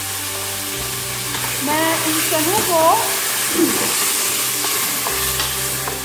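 Ginger, garlic and chickpeas (kale chane) frying in a pan, a broad steady sizzle with stirring scrapes, while a voice speaks briefly over it midway.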